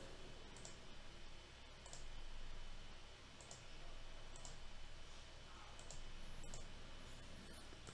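Computer mouse clicks on links in Adobe Captivate 2019, a series of faint, sharp, isolated clicks spaced about a second apart over a quiet background.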